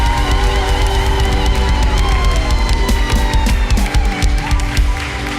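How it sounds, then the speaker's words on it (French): At a Christmas show, the audience breaks into loud, dense applause mixed with cheers and whoops. The clapping crackles continuously over a low rumble for the whole stretch. "On peut aussi applaudir les musiciens qui sont ici là, qui ont fait un travail de fou"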